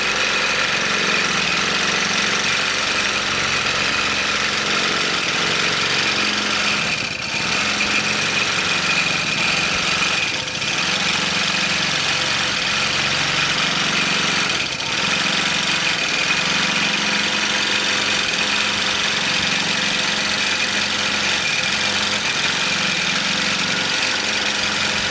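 A sewing machine runs continuously while stitching a T-shirt quilt, a steady mechanical hum with slight shifts in tone and a few brief dips, close and uninterrupted by talk.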